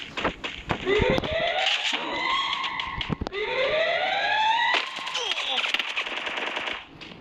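Rapid automatic gunfire from a video game rattles in loud bursts with rising whine-like tones and sharp shots, near and dense across the stretch, with a voice faintly underneath.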